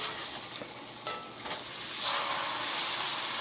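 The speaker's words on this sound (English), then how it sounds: "Frying pan's nice and hot, let's get that grilled cheese on." A grilled cheese sandwich sizzling in a hot frying pan on a barbecue, a continuous crackling, hissing fry that swells slightly louder partway through, close up with no talking.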